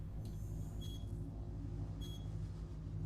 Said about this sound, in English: We're gonna have to deal with the beep beep beep noise.